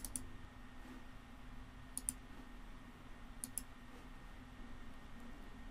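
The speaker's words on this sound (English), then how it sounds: "click the download tool now button and then just double click the tool" A computer mouse clicks in quick pairs during a Windows 10 upgrade: three crisp, faint double clicks spaced about two seconds apart over a low, steady room hum.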